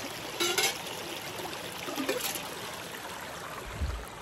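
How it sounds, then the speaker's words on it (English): Water trickles and pours into a container being filled to douse a campfire in the mountains, a faint, soft stream with a few brief splashy bursts and a low knock near the end. "Fill this sucker with water."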